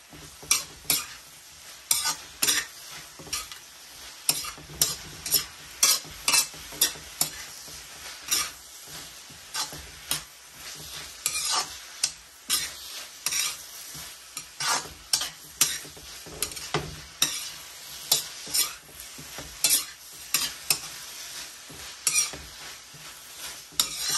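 A utensil scrapes and clanks against a pan while pancit miki is stirred, giving dozens of quick, irregular metallic knocks over a low sizzle, close and fairly quiet, with no talking.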